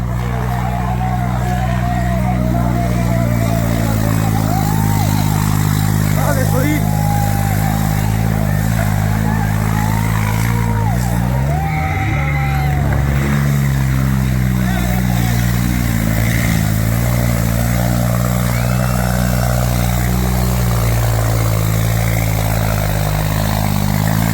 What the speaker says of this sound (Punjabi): ਹੁਣ ਇੱਥੇ ਨੂੰ ਆਵੇਗਾ ਟਰੈਕਟਰ